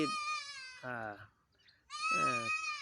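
Goats on a rural smallholding bleat twice, close and clear, with a short quiet gap between the two calls.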